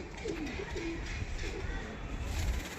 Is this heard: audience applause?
no